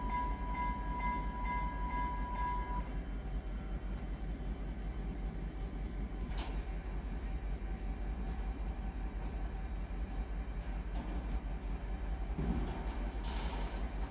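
A Swedish IC passenger train passes through Kilafors station, a steady, loud rolling rumble that holds throughout, with a brief tonal signal near the start and a few sharper metallic clanks along the way.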